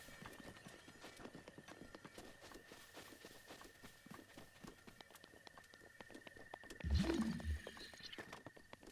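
Horse hooves clip-clopping in The Legend of Zelda: Breath of the Wild as a Bokoblin rides past, a steady trotting rhythm over game ambience, with a louder close burst near the end.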